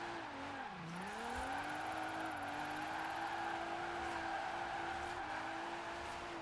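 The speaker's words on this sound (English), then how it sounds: "look how far I'm sliding just by tapping the e-brake a little bit and then slightly accelerating." A RWD hatchback GTR in Forza Horizon 4 slides downhill on a light e-brake tap, its engine drone steady and loud with a pitch dip and rising whine, a continuous tire-scrub hiss beneath, no talking.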